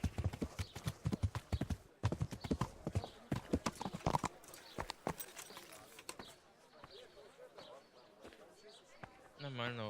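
A horse's hooves clip-clop in the medieval game Kingdom Come: Deliverance, a quick run of sharp hoofbeats that slows to scattered steps, with a brief whinny near the end and someone talking over it.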